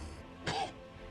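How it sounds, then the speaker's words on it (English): Santa gives a single short, rough cough in an animated Christmas cartoon, one close burst in a quiet scene with no talk. "Santa sounds like he has a bad cough."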